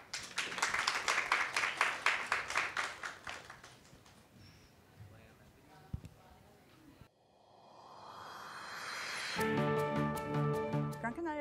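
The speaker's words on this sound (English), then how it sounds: "Let's give them a round of applause." An audience claps for a panel at a women's tech entrepreneurship summit; a burst of rhythmic applause fades over about four seconds, then gives way to music.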